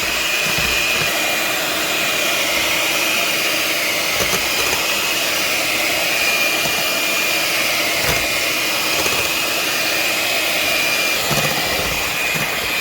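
An electric hand mixer runs on its highest setting, whipping cream while making butter, a loud continuous whirring drone that holds steady throughout, close by, with no talking.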